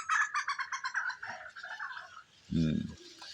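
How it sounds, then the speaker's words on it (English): Several calls from long-beaked birds repeat in a quick, chattering series, fairly close and clear, followed by a brief low burst of another sound near the end. "Those are the long beak birds."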